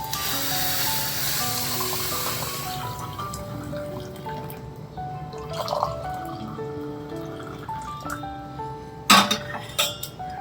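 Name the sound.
pouring heated tea into cups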